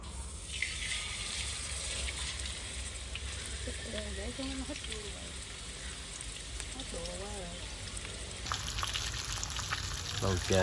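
Steady broadband sizzle of fish pieces frying in hot oil, continuous throughout, with a voice briefly talking underneath in Vietnamese.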